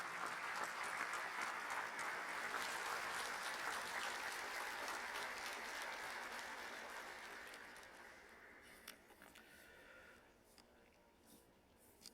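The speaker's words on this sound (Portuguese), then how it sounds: "Uma salva de palmas ao rei da música angolana" Sustained applause from an audience at a formal closing session of Angola's National Assembly, honouring the Assembly's choir; dense, steady clapping that thins and fades toward the end.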